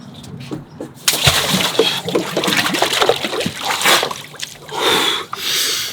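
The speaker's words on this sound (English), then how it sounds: "we're going for our first plunge" A person plunges into a cold water bath with a sudden loud splash, followed by sloshing, trickling water and heavy breathing up close.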